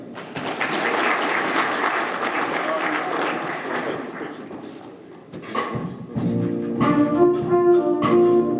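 An audience at a SWAC hall of fame induction claps in sustained applause for several seconds. Cheering and amplified voices then rise over the fading clapping.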